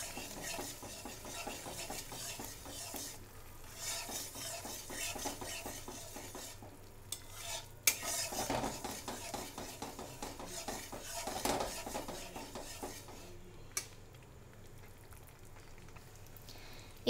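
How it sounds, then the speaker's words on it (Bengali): Nakuldana sugar drops stirred into pumpkin paste in a pan over a medium flame, a continuous close scraping and shuffling with faint sizzle and occasional metallic clinks of the spoon against the pan. "নকুলদানাটা যোগ করে মিডিয়াম ফ্লেমে আমি আর একটু ভালোভাবে নাড়াচাড়া করে নেব"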